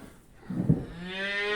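A cow on a farm gives a single drawn-out, low moo that swells and holds steady, close and clear with nothing else around it.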